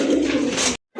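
A breeding pair of racer pigeons coos loudly and close by, a continuous throaty burble that breaks off briefly near the end before resuming.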